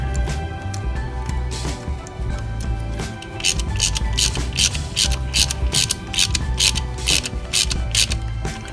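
Bolts being tightened on a Nissan S13 convertible with a ratchet, rapid close clicking in bursts that grows denser partway through.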